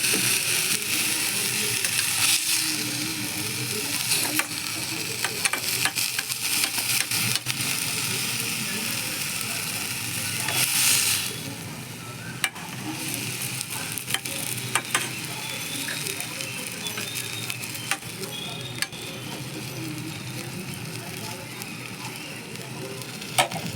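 Banana stem curry simmering in a pan with a little water added, a continuous bubbling sizzle with scattered clicks and a louder hissing surge midway, steady and close.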